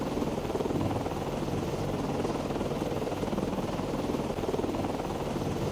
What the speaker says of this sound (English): Helicopter still transiting to point.